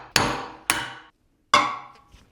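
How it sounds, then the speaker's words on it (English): Three sharp hammer blows driving a bushing out of a Nissan 240SX subframe, each a loud close metallic clang with a ringing decay, the last after a brief pause. "All I can do is just use a hammer and hammer this guy out."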